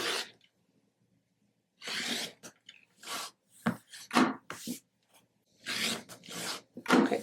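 Fabric edges of an Ohio Star quilt block are trimmed down by about an eighth of an inch, giving several short, close rasping cuts in separate bursts with quiet pauses between them.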